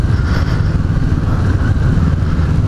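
A new Kawasaki Z650 motorcycle engine runs loud and close on a test ride, its throaty mid-pitched drone steady and rumbling with slight surges in revs and no talking.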